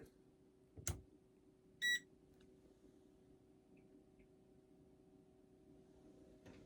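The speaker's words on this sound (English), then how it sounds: "I heard a beep." A short electronic beep from a tankless RV water heater's control panel rings out clearly in a quiet room, after a brief click, followed by near silence with a low steady hum.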